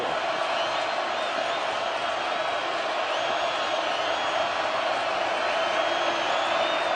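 A packed stadium crowd at a USC versus Washington college football game roars in a dense, sustained wall of noise that holds steady throughout, broad and distant-sounding with no single voice standing out.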